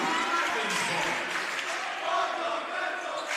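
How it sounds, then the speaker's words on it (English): High school varsity basketball crowd at St. John Vianney against DeSmet Jesuit jeering a player in the gym, a dense, continuous roar of many voices filling the whole stretch. "And the Vianney crowd letting him hear it."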